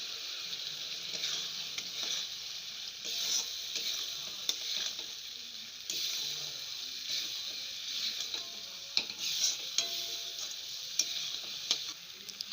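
Mango pieces fry in a pan with mustard and raw rice, giving a soft, continuous sizzle broken by scraping and clicking stirring strokes, close and fairly quiet, with no talking.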